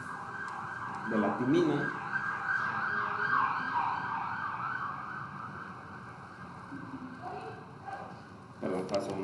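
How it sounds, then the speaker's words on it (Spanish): A wailing ambulance siren passes by outside, steady and moderately loud with a rising and falling tone, beneath a man lecturing in Spanish indoors. "perdón, paso una ambulancia"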